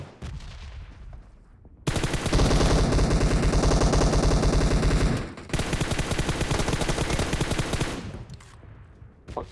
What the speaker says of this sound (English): M10 shotgun only is killing everyone